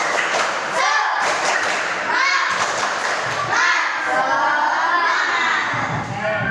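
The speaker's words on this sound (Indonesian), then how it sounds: "Yuk, tepuk semangat." A fifth-grade elementary class performs a 'tepuk semangat' chant, children's voices calling out in rhythm between sets of heavy, patterned claps and thumps in a classroom.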